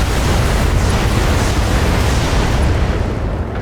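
LRM missile barrage in BattleTech, a dense roaring wash of continuous explosions and rumbling blasts, loud and sustained without pause, no talk.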